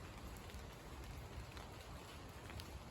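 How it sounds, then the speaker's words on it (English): Raindrops fall outdoors in a soft, even patter with no break, faint and diffuse, with scattered closer drips standing out now and then. "Raindrops falling."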